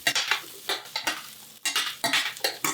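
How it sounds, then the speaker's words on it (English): Potatoes and green beans sautéing in a pan for a hot and spicy vegetable curry, heard as a series of close, bright stirring scrapes and sizzling bursts in irregular rhythm with short pauses between. "I think we're going to do the potatoes and green beans first. You're going to give them a light saute."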